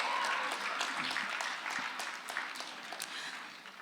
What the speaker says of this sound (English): Can we get a round of applause for Kav's courage?